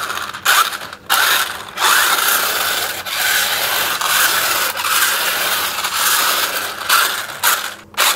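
The rotating tyre mechanism of a toy vehicle in a toy shop gives a loud, close, grinding ratchet-like clatter with plastic gears whirring in bursts, with short gaps between runs.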